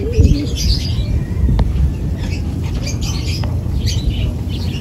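Racing pigeons coo and flap nearby, with scattered squawks and chirps over a low outdoor rumble.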